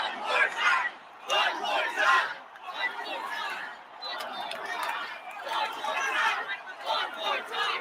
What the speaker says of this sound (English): Listen to the crowd, y'all.